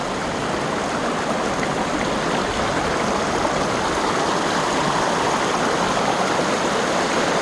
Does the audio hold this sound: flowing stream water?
yes